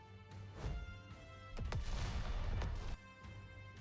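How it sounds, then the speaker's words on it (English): In a fantasy battle scene, a massive explosion is set off by an energy wave from a swung sword. Two heavy booming blasts with crashing debris land in quick succession, loud and close, with no voices. "Guillotine swings her sword, sending an energy wave surging past Maiden's ear, causing a massive explosion behind her."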